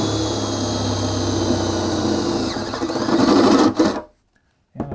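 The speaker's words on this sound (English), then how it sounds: "I'm going to continue my grinding routine in here, actually wire wheeling routine in here" A wire wheel grinds across a car's metal floor pan, giving a loud continuous rasping whir that swells near the end, then cuts off abruptly into brief silence before a short final burst.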